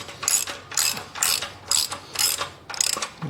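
Ratchet wrench loosening muffler bolts on a Harley-Davidson motorcycle, six quick bursts of close, sharp clicking in an even rhythm with short pauses between strokes.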